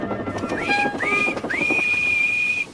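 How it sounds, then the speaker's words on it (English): A shrill railway guard's whistle blown three times, two short rising blasts followed by a longer sustained one, loud and close. "That sounds like a guard's whistle"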